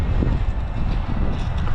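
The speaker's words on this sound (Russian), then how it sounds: "ветер достаточно сильный" Strong wind at a Black Sea beach buffets the microphone in a continuous loud roar, with no voices.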